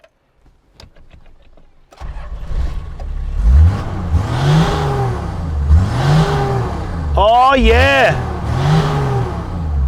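A Toyota Land Cruiser 60 with a 2H diesel and Whistle and Soot turbo kit starts, then revs in repeated loud surges with a rising turbo whine, close up, while a man exclaims briefly.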